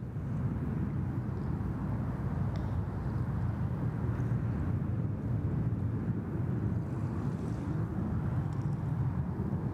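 An airliner taxis along taxiway Alpha toward runway 3 left at Sydney Airport, heard from a distance as a steady, low engine rumble mixed with wind noise that holds unchanged throughout.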